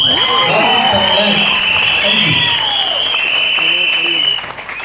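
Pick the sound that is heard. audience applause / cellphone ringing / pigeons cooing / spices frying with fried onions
audience applause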